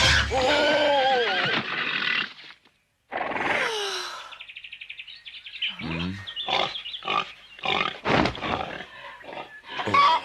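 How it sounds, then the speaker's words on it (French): A cartoon pig in a French-language animated series squeals and grunts, opening with a long wavering cry, then a string of short, sharp bursts, loud and close. "C'est un de nos cochons."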